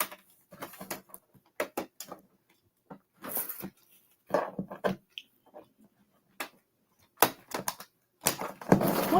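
A computer keyboard clatters in irregular bursts of rapid, close key taps, separated by short pauses of silence.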